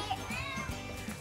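A cat meows in a pet shop where it is being bathed, giving a few short, near, wavering cries that rise and fall in pitch, with no talk over them.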